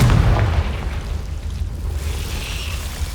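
In Hogwarts Legacy, a Confringo spell bursts in a heavy booming explosion at the start, then its rumble fades into a low lingering roar.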